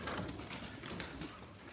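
Soft, low pigeon cooing amid a busy rustling background, faint and somewhat muffled, with no talking.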